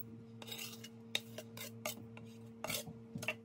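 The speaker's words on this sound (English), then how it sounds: "I'm gonna chop it into smaller pieces" A kitchen knife chops a jalapeno into smaller pieces on a cutting board, a series of sharp, irregular taps and knocks close by, with soft scraping between strikes and no talking.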